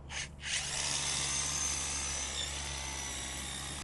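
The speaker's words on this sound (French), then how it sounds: "Ici c'est atelier perçage" A power drill bores holes for pipe fixings at an outdoor RC rally track build, starting with a short burst and then whining steadily and loudly at close range.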